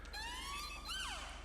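A police car siren in GTA V with the LSPDFR mod wails in rising and falling sweeps, fairly loud and continuous over a low engine hum, with no voices.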